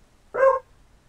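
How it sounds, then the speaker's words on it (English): A single short bark from a pet dog, close and clear against near silence. "That is my dog to come in."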